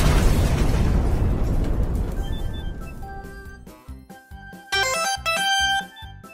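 A bomb explodes in a Thomas the Tank Engine toy train scene: a loud, broad blast rumbles and fades over a few seconds, then bright chiming, clinking musical tones follow.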